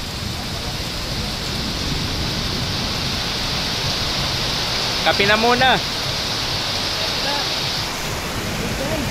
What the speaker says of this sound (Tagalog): Lakas ng ulan. Grabe oh.